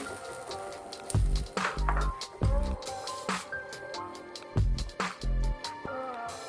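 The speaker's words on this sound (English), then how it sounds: "then add tomato, blended tomato to it" Blended tomato lands in a hot pan while chilli garlic prawns are being cooked. It gives off wet squelching splats and bursts of sizzle, with irregular louder thumps over a steady background hiss.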